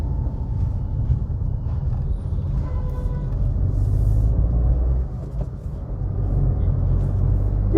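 Engine of a 2024 Maruti Suzuki Swift pulling hard at high revs, a steady loud low rumble and drone with road noise that dips briefly mid-way and then builds again.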